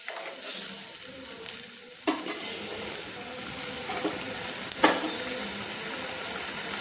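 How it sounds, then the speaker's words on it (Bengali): Spice paste (masala) fries in oil in a pan and is stirred repeatedly for fish-head kosha, giving a steady close sizzle broken by sharp spoon scrapes against the pan, with no talking. "মশলাটাকে সুন্দর করে আমি কষিয়ে নিচ্ছি, যতক্ষণ না তেল ছাড়ছে মশলা থেকে বা একটা সুন্দর গন্ধ ছাড়ছে।"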